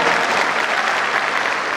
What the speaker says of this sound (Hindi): एक बार तालियां बजा करके बता दो कि कवि सम्मेलन प्रारंभ हो गया है।